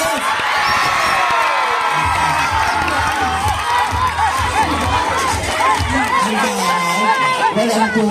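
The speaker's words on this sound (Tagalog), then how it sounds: "Palakpakan natin si Kawit number 6." A crowd at a barangay bingo game cheers, whoops and applauds loudly and continuously, with excited shouts from close by and children's voices mixed in.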